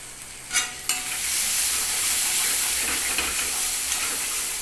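Tarka sizzles and fries loudly in a pan after Kashmiri chili powder goes in, a steady close hiss following a couple of brief stirring clatters.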